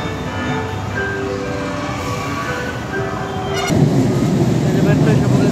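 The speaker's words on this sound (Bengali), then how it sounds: "মেট্রো এসে পড়েছে।" An LRT-1 metro train pulls into a station in Manila at night, its rumbling rail noise swelling louder and nearer in the final seconds, heard alongside ambient platform sounds.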